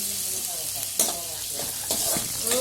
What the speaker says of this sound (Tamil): இப்போ கொஞ்சமாக கருவேப்பிலை அதில் சேர்த்துட்டு நல்லா வதக்கி விடுங்க.